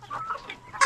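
A chicken clucks softly in short bursts, close by, ending with a sharper, louder squawk.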